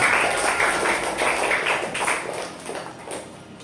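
A class of students claps after a group presentation in a primary science lesson, a brief scattered patter of hands that fades within a few seconds.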